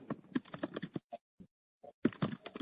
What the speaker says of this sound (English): someone is typing. Please stop.